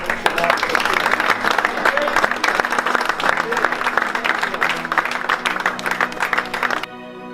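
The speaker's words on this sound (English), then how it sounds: "A big round of applause, Dave." A crowd applauds loudly and steadily for several seconds, dense clapping throughout, with voices mixed in before it cuts off abruptly.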